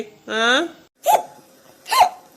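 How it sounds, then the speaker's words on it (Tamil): Three sharp hiccups spaced about a second apart, close and loud, the first drawn out with a voiced, wavering tone, from a cartoon character in a Kanyakumari-slang comedy. "விக்கல் இப்படி வந்துகிட்டு இருக்கு நிக்காம"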